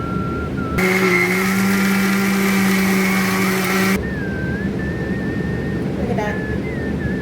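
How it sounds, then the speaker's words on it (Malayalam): A mixer grinder blending batter whirs loudly with a high motor whine for about three seconds, then cuts off, leaving quiet room sound and faint talk. "മിക്സിയിലിട്ടൊന്ന് അടിച്ചെടുക്കുക."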